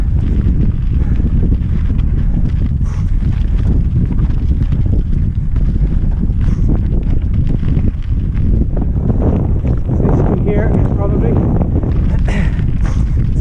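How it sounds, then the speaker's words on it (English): Wind buffets the microphone on an outdoor cross-country mountain bike course at Ticknock, Ireland, as a steady loud low rumble lasting throughout. A voice is faintly audible under the noise at times. "Bit of wind."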